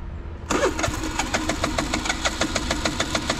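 A small engine, apparently in a house setting in Goa, is started with a pull starter and then runs steadily. Its rapid, regular knocking pulses stay loud and close the whole time, with no talk.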